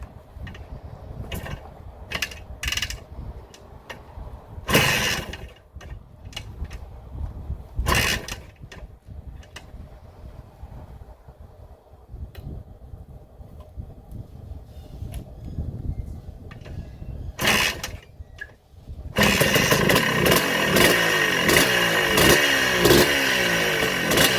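A 1984 Honda 250R three-wheeler is kicked over with several sharp mechanical clunks, then the two-stroke engine catches and runs loud and raspy, revving steadily close by.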